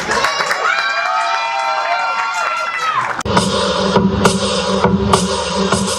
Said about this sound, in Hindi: तो जोरदार तालियों से स्वागत करेंगे किन्नर परफॉर्मेंस के लिए